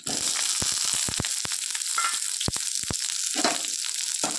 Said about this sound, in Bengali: তারপরে দিয়ে দেবো কারি পাতা এবার দিয়ে দেবো লঙ্কা পেঁয়াজ কুচি